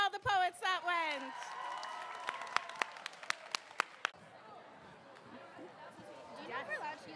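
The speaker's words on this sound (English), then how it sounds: "And one more round of applause for all the poets that went." Brief audience applause at a grades 11 and 12 spoken word poetry event, opening with voices, then scattered individual claps and a soft crowd wash, with talk returning near the end.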